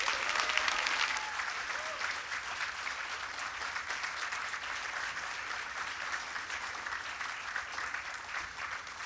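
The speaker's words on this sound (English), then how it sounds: "let's give a round of applause for Brandon Sanderson" A convention crowd at a Q&A with author Brandon Sanderson claps steadily for several seconds, a dense, even applause that tapers off slightly toward the end.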